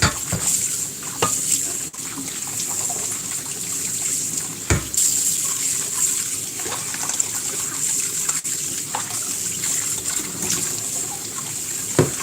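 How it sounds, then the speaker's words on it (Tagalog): Running tap water splashes steadily into a cooking pot being washed in a kitchen sink ahead of making kimchi jjigae, a continuous hiss broken by a few brief clanks and sharper splashes. "hugasan muna natin ang ating pong lulutuan"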